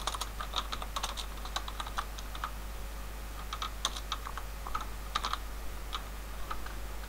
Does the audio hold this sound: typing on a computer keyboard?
yes